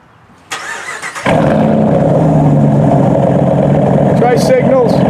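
A 2019 Ram 1500 pickup's engine cranks briefly, catches and settles into a loud, steady idle close by. Voices come in near the end.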